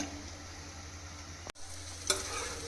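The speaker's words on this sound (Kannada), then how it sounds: "ಇವಾಗ ಈರುಳ್ಳಿನ ಚೆನ್ನಾಗಿ ಬ್ರೌನ್ ಕಲರ್ ಫ್ರೈ ಮಾಡ್ಕೊಳ್ಳೋಣ" Onions browning in hot oil in a pan for egg dum biryani: a steady soft sizzle runs throughout, broken near the middle by a brief scrape or knock and a sharper clatter shortly after.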